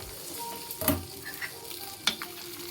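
A spoon stirs fried onions into dalcha in a pan with the stove switched off, giving sparse scraping strokes against the metal and two sharper clinks over a faint background hum, with no talking.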